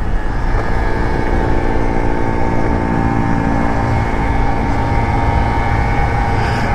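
A scooter engine drones steadily while riding fast along the high roads of the Black Forest, loud and close with constant wind rush and a sustained buzzing tone throughout, without speech.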